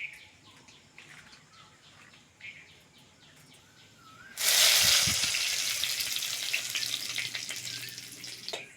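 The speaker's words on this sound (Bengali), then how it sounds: "নিম পাতা ভাজা আর দারুণ একটা সেন্ট আসছে" Tender neem leaves and black cumin seeds fry in hot oil for a Bengali lau shukto. A loud, steady sizzle bursts in about halfway and keeps going, after a quieter kitchen backdrop with faint bird calls.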